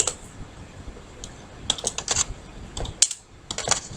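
Quick bursts of keystrokes on a computer keyboard, close and crisp, arriving in short irregular clusters with brief pauses between them against a quiet background.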